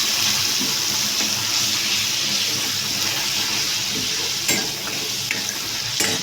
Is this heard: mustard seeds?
yes